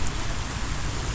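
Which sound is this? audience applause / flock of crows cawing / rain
rain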